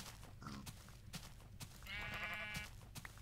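Sheep in the video game Minecraft bleat within a busy game soundscape, with one drawn-out, wavering bleat standing out clearly near the middle and a few short thuds and clicks scattered around it.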